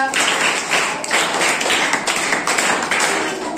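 Audience applause for the Rider team at a general knowledge quiz, a steady dense patter of hand claps sustained throughout, fairly loud and close with no talking over it.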